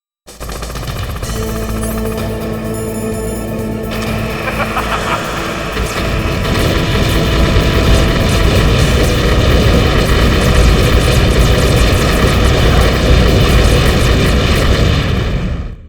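A Hind helicopter in Metal Gear Solid roars with a steady engine drone that swells louder partway through, mixed with heavy gunfire and booms, loud and sustained, with no one talking.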